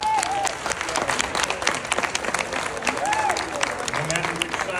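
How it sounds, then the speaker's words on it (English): Audience applause for political candidates at a state representative candidates' night forum, a steady wash of clapping from a room of people lasting throughout, with some talk and a few voices mixed in. "I think they all deserve another round of applause."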